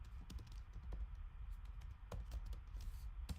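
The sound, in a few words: typing on a computer keyboard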